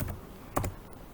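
Keys tapped on a computer keyboard while entering a product name, 'processor', into a search field of Azpos point-of-sale and warehouse software: a couple of quick, close clicks, with one sharper strike in the middle.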